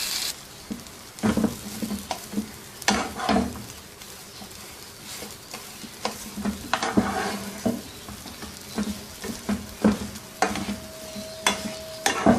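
Mashed potato kachori stuffing cooks in a pan, a steady soft sizzle broken by repeated scraping and stirring taps of a spoon against the metal, close and clear with no talking.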